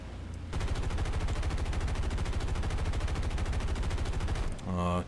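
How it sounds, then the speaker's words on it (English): Sustained rapid burst of .50 caliber machine guns firing from a B-25 bomber in the War Thunder video game, a loud continuous rattle lasting several seconds before cutting off. "now we're going to see if we can kill some pillboxes with the 50 cals we have on board"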